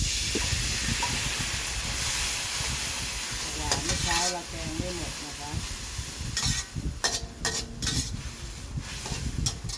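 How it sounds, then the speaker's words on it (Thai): Sweet leaf greens are stir-fried in oil in a home kitchen, giving a steady close sizzle and hiss. Stirring scrapes and clatters break in now and then, and someone talks intermittently. "ต่อไปเป็นผัดน้ำมัน ผักหวานนะคะ"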